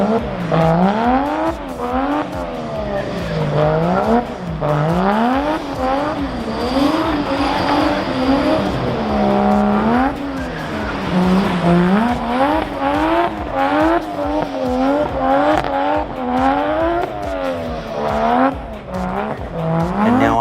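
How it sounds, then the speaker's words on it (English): Toyota Chaser drifting through a course at a Datsun club skid event, engine revving up and down in repeated rising and falling sweeps with tire squeal, loud and continuous. "Best sounding car of the night, in my opinion, goes to this Toyota Chaser"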